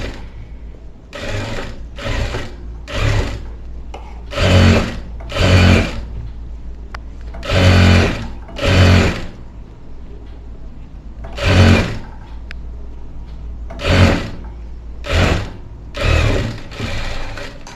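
A sewing machine stitches a hemming strip on a blouse in repeated bursts of loud mechanical whirring, each a second or so long, separated by short pauses and clicks, close up with no voices.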